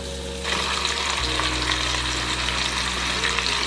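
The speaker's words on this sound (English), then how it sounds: "Now I just want to brown this a little bit." Meat browning in a hot pan as the first step of birria, giving a steady, close sizzle and crackle that rises in the first half second and holds evenly, with a low hum underneath.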